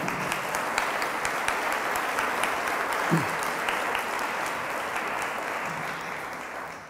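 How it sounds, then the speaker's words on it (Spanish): An audience at a public reception of the Argentine Academy of Letters applauds an honored guest seated in the front row, an even, sustained clatter of many hands in a hall that slowly eases toward the end. "para quien pido un aplauso"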